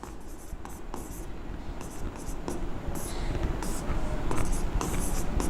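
A pen scratches out accounting working notes on a fresh page, making quick faint strokes and taps that come in short bursts over a low steady background hiss.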